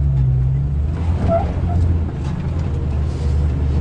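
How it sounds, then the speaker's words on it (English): A Jeep crawling up slick rock in Moab, a close steady engine drone with low rumble while the tires spin, with a voice talking over it. "You got some wheel spin and it crawls you right up."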